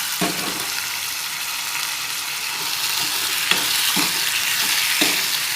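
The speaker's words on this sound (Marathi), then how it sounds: "सगळं मिक्स करून घेऊ आता आपण चणे" Chickpea ghugri sizzles steadily while it is fried in a pan, with a spoon stirring and scraping through it and a few soft knocks against the pan, all loud and close.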